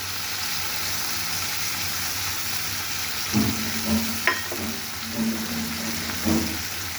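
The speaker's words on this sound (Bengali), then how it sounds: "আমি এখন এটাকে একটু নেড়ে চেড়ে দিচ্ছি" Ground spices with ginger and garlic paste stirred in a hot pan, a steady soft sizzle with a few scraping spatula strokes and light knocks toward the end, close and with no talk.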